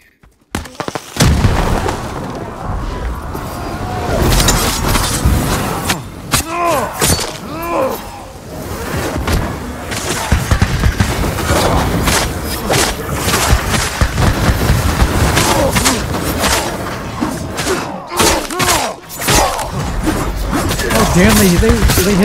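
Gunfire and explosive booms crackle through a Ghost of Tsushima Legends online samurai battle, loud and dense throughout, with players talking over the combat.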